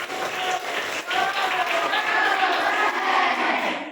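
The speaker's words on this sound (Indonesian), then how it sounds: "Yuk tepuk tangan untuk kita semuanya." A class of students claps together in a lively burst of applause lasting the whole stretch, with shouts and voices mixed in over the steady patter.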